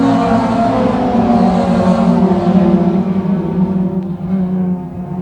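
A pack of Thundercar race cars roars loudly at the start of a race at Can Am Speedway, with layered engine drones that rise and then fade slightly as they pull away.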